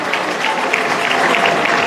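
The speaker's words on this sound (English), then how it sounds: "A big round of applause for him" A large crowd at a university in Cape Coast gives a big round of applause for Kennedy Agyapong, loud continuous clapping that stays steady and close throughout the short burst.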